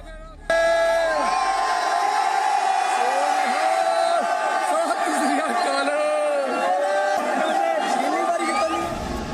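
A large rioting crowd chants and shouts slogans while pushing into the Red Fort in Delhi. Many voices overlap in a loud, continuous roar with rising and falling yells close by.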